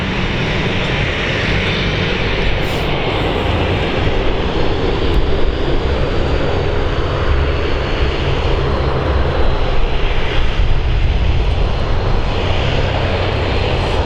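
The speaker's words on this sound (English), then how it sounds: "they have a very, very strong crosswind to deal with, and it almost puts the aircraft in like a side direction. It crabs the aircraft when they take off." A Luxair Dash 8 turboprop taking off in a strong crosswind: loud, steady propeller and engine roar with a broad rushing drone that holds for the whole stretch, close and unbroken.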